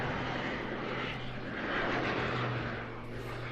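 An aerobatic propeller plane with a petrol engine hangs nose-up in a sustained torque roll at an airshow, its engine droning in a loud, steady, slightly wavering roar with no voices.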